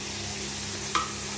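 Masala and curd for chicken biryani sizzle steadily in a hot pan while a spoon stirs it, with one brief scrape partway through.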